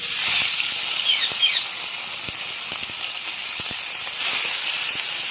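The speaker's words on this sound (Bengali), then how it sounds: "দেখো তেল গরম হয়ে গেছে, এবার আমি মাছ তিনটে এক এক করে ছেড়ে দেবো।" Three fish slide into hot oil in a wok for a mustard fish curry, raising a loud, steady hiss and sizzle that swells again near the end.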